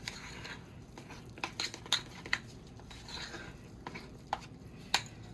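A spatula scrapes and taps against a bowl while mixing green food coloring for cake icing, producing soft clicks and small clinks at irregular intervals over a quiet background.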